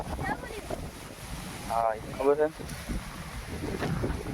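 Strong wind blowing through a farm orchard with brinjal and fig plants, a constant rushing roar with gusts buffeting the microphone, while a person speaks briefly over it.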